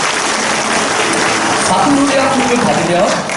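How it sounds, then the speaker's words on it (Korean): A church congregation applauds during a sermon, a steady, dense wash of clapping filling the space with a few voices faintly heard within it. "우리 주님께 영광의 박수를 드리겠습니다."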